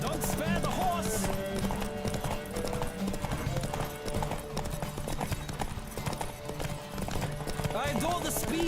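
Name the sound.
horse galloping, from the video game The Witcher 3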